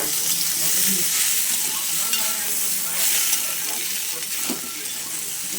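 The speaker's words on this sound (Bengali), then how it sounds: "আর এখানে দেখো আমার আলু ভাজা চলছে।" Potatoes fry in a pan as part of a home-cooked Bengali dinner, giving a steady, close, crackling sizzle throughout with occasional stirring scrapes.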